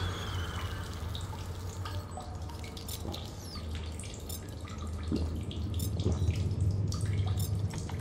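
Running and dripping water in the sci-fi survival game The Solus Project, a steady close splashing and trickling stream with scattered drips, heard alone without talk.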